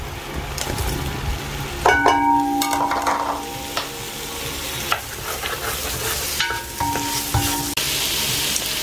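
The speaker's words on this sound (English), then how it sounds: "Now I'm going to add the diced bacon." Diced bacon frying and being stirred in a pan for a Polish bigos hunter's stew, a steady loud sizzle with scraping stir sounds and clatters throughout.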